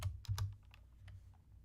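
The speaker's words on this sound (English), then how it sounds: "I'm just going to type in seniors." Fingers typing on a computer keyboard, a quick burst of a few close, crisp key clicks up front followed by lighter, sparser taps, alone without any talk.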